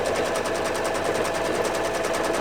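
Sewing machine running steadily, a continuous rapid mechanical stitching whir with even rhythm throughout, close and fairly loud with no talking.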